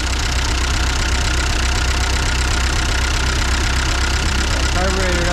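An old farm tractor, an Allis Chalmers WD or Ford 8N, idles loudly and steadily as it warms up, its close engine chugging with a knocking roughness that never lets up.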